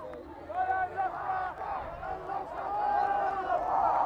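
A Birmingham crowd cheers and shouts after a university championship final win, a lively, moderately loud mass of voices that swells toward the end.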